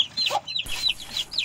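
A mother hen and her chicks in a farm coop, fed chopped grass: a run of high, bright chick peeps close by, broken by a lower single hen cluck, with no talking.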